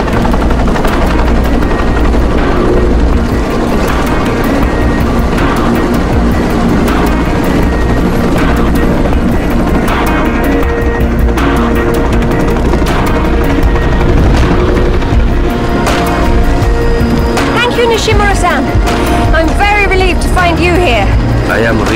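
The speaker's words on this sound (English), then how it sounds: "got a chopper outside waiting for you" Helicopter waiting outside in a Tomb Raider Legend cutscene, a loud constant rotor thrum and engine drone running throughout, blended with dense background rumble and effects while voices talk over it.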